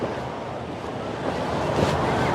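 Sea waves wash against a floating bridge at Varkala, Thiruvananthapuram, making a steady roar of surf mixed with wind that swells slightly toward the end.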